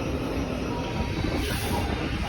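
A commuter train stands at or moves through Wimbledon station in London, giving a steady broadband rumble and hiss of wheels and motors that fills the whole clip with no pause.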